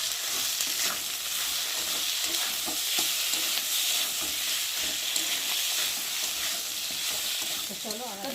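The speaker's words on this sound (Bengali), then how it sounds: "অল্প করে একটু হলুদ দেবো, দিয়ে মশলাটাকে ভালো করে ভেজে নেব" Spice paste of ginger, cumin, garlic and turmeric frying and being stirred in a pan with salt, a steady loud sizzle with scraping of the spoon, continuous throughout.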